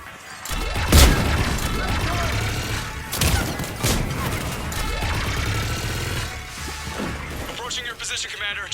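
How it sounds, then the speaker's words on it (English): Sci-fi battlefield combat in the video game Mass Effect 3: repeated loud bursts of gunfire and heavy impacts rumble beneath radio-style voices and a dense battle soundscape. "Just following the gunfire."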